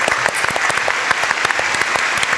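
Studio audience applauding at a Turkish folk music show, dense loud clapping that runs steadily from start to end with no talk over it.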